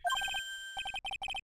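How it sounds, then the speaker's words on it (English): A phone alarm going off in the Ace Attorney: Trials and Tribulations game, loud, crisp electronic tones in quick bursts of three to four beeps with short gaps between them. "Yeah, that's my alarm."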